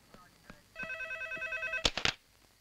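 A telephone bell rings in a scene from the Telugu film Annayya: a steady, bright trilling ring lasting about a second, then two sharp loud knocks, with faint voices in the background.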